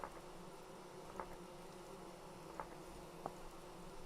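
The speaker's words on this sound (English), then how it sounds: "Bees. A whole-ass beehive." Bees hum around a beehive close by, a faint, steady drone with a few soft ticks and brief flutters rising over it, quiet and with no talking.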